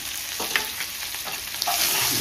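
Grated ginger fries lightly in a pan with a little salt, a steady close sizzle with occasional soft stirring scrapes and small pops, no talking over it.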